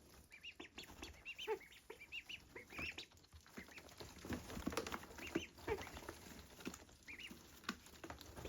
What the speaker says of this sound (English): So that's what I suspect to be that rasp sound, that sort of male duck sound.